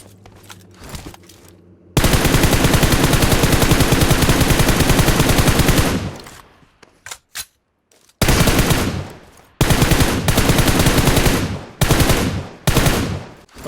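Automatic gunfire in the mobile battle-royale game PUBG Mobile: a long, loud sustained burst, a few scattered single shots, then several shorter rapid bursts in quick succession, close and dominant.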